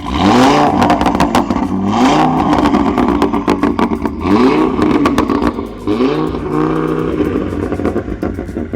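An Audi RS3 engine of about 400 horsepower revs hard in repeated surges, rising and falling in pitch with crackling pops between pulls, loud and close.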